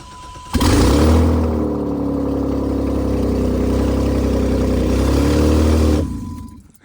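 A 2007 Dodge Charger 3.5L V6 engine with no headers cranks and catches, then roars and idles roughly for several seconds before cutting off, deep and throaty up close.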